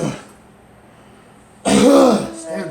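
A person clears their throat in one loud, rough, rasping burst after a quiet pause, followed by a fainter trailing vocal sound.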